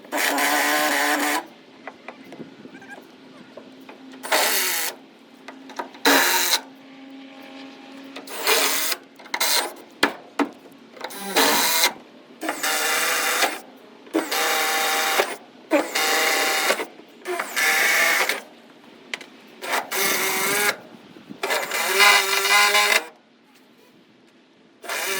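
A power drill whirs in repeated bursts of a few seconds each, stopping and starting with quiet gaps between, close by and fairly loud, as the drill bit jams while drilling deck boards.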